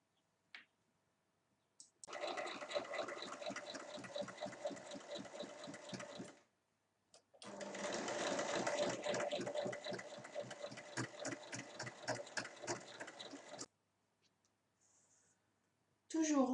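A sewing machine stitches a makeup pouch in two long bursts of rapid, even clatter, close and clear, with a short pause between runs and brief quiet handling at the end.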